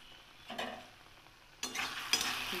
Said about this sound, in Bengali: এটাকে আর একটু ভাজা ভাজা হতে দেবো।